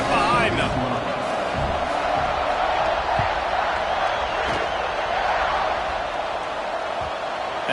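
A football stadium crowd roars steadily at kickoff, a dense, continuous wash of cheering and noise filling the whole stretch at a loud, distant-yet-enveloping level.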